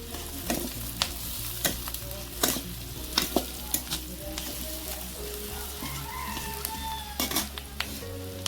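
Whole cumin seeds fry in hot oil in a pan on a clay stove, crackling under a steady sizzle while a utensil scrapes and clinks against the pan in repeated sharp strokes.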